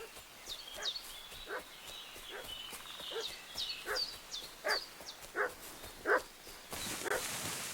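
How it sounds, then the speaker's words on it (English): A dog barks repeatedly in Kingdom Come: Deliverance 2, a medieval video game, its sharp yelps and barks coming in a steady series at moderate distance against a rustling outdoor background. "What's that dog making such a fuss about?"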